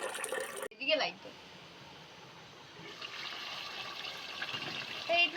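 Rice for chicken biryani is rinsed in water, with sloshing and trickling close by after a short burst of other noise, and a voice speaks over the start.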